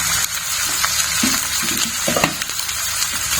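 Potatoes go into a pan of frying beans, bringing a loud close sizzle with stirring scrapes and clatters. No one speaks.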